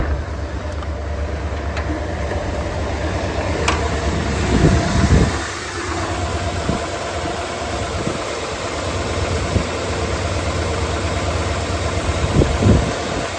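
A 1989 Ford F150 302 V8 engine with a bad EGR valve idles with a steady low rumble, heard up close, with a few brief knocks and clatters over the continuous drone.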